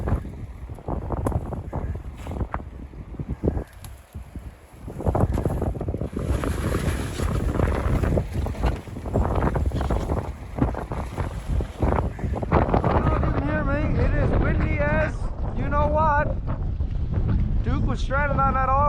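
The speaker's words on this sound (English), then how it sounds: "The wind picked up big time" Strong wind gusts buffet the microphone outdoors beside a lake in early spring on a canoe camping trip, roaring loudly and unevenly, with lapping water and a voice heard briefly near the end.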